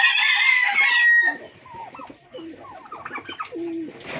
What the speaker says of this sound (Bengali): তো এই যে 2 জোড়া গিরিবাজ আর ওই পাশে 2 জোড়া আছে, ওই 2 জোড়া দেশি।